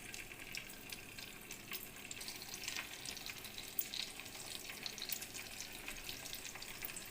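Stuffed okra fries in hot oil in a pan with a soft, steady sizzle and faint crackles, quiet and continuous with no talking.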